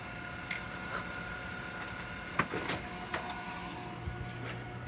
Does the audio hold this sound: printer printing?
yes